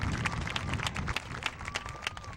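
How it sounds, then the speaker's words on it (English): A crowd at a Pony Baseball opening day applauds an all-star team, steady scattered clapping sustained for a couple of seconds, moderately close and fairly even. "So let's give them a round of applause for what they did last year."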